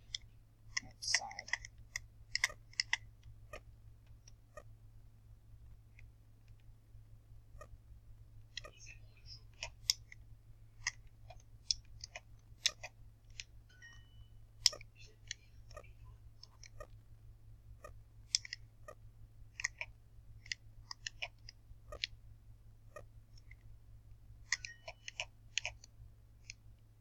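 A computer mouse clicks in scattered bursts, short sharp ticks at irregular intervals over a constant low electrical hum, fairly quiet and close.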